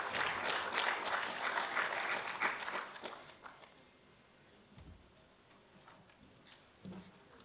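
Applause from an awards-ceremony audience at Vigyan Bhavan in New Delhi, a dense patter of clapping for the first three seconds that thins and fades into scattered claps and quiet by the end.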